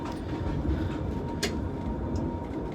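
Tram running on rails during a live week of tram driving, a steady low rumble of wheels on track that fills the whole stretch, with a brief higher squeal near the middle.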